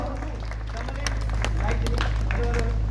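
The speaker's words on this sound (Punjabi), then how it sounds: "ਦਮਨ ਲਈ ਜ਼ੋਰਦਾਰ ਤਾੜੀਆਂ" An audience at a Punjabi anti-drug stage play cheers actor Daman Sandhu with a steady wash of applause and clapping, heavy and continuous throughout under a loud voice and a low hum.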